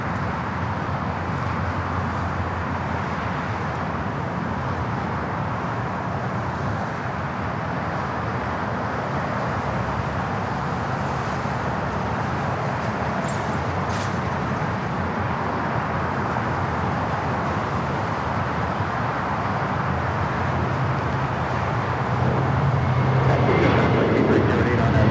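An airliner rolls for takeoff down runway 25R at LAX, a steady, broad jet roar heard from a distance that holds level throughout and swells louder near the end.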